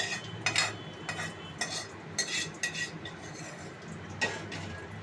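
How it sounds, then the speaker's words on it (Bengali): Panch phoron spices dropped into hot oil in a pan while making a sweet, hot and sour mango pickle, with a steady close sizzle and intermittent clinks and scrapes of a utensil stirring against the pan. "এইবার আমি এর মধ্যে পাঁচ ফোড়নটা দিয়ে দিলাম।"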